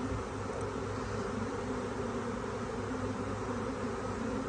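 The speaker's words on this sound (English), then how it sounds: "I've seen lots of bees enter the hive" A swarm of honey bees pours into a hive, a dense, steady buzzing drone that holds level and close throughout with no break.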